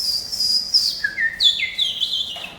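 A man whistles an imitation of a robin's song, a run of high, thin sliding chirps and trills in quick succession, clear and close against a quiet background.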